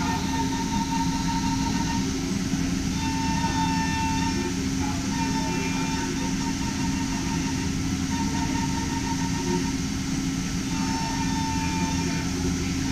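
A Matsuura 5-axis CNC machine driven by linear motors runs a detailed cut at 18,000 RPM, giving a steady whine and hum with faint intermittent tonal chirps, continuous and even, with no talk.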